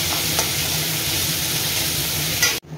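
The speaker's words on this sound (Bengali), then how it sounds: "তারপর সেই তেলেই চিংড়ি মাছগুলোকেও ভেজে নিচ্ছি, লাল করে ভেজে, হালকা লাল।" Prawns frying in hot oil, a steady, close crackling sizzle with a few sharp pops, cut off abruptly near the end.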